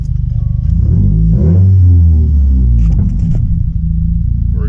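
A 2015-or-later Subaru WRX/STI with a Perrin sump restrictor fitted is started and idles, its engine a loud, close, deep rumbling burble with a brief rise in revs partway through.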